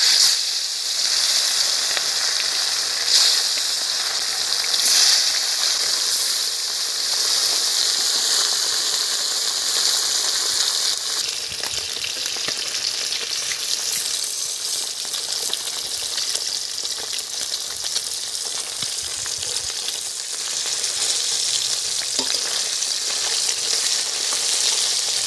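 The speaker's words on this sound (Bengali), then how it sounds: "তেল গরম হয়ে গেছে, মাছগুলো দিয়ে দেব।" Silver biddy fish frying in hot oil in a pan, a loud, dense, continuous hiss and crackle held steady close by for the whole stretch with no talking.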